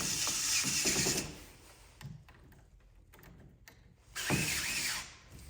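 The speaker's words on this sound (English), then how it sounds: "since these are machine threaded screws, this do not require a lot of force to go in" Machine threaded screws driven into a Schlage Camelot exterior handleset whir and ratchet in short bursts, a loud stretch at the start and another near the end with quieter clicking between.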